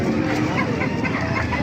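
White Kelso roosters and hens cluck in a crowded market setting in Baliuag, with steady overlapping clucking amid a busy, noisy background.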